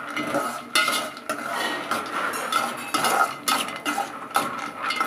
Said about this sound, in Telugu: పల్లీలు ఫ్రై చేసుకుంటున్నాను